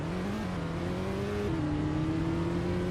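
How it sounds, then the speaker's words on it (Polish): A Roblox car engine drones steadily at moderate revs, its pitch shifting down and back up slightly, with a smooth synthetic tone like a modified BMW 330i F30. "Brzmi to trochę jak taki zmodyfikowany dźwięk BMW 330i"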